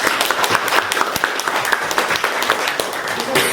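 A class of students gathered in a school library applauds a classmate's novel synopsis, sharp overlapping claps forming a lively, uneven patter that runs throughout at close range.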